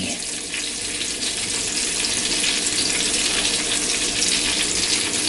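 Breaded crab cakes deep fry in hot oil, giving a steady, dense hiss and crackle that carries on evenly without talk.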